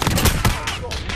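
Sniper rifle fire in Call of Duty: Warzone: two loud, booming shots in quick succession with a rolling echo, close and heavy.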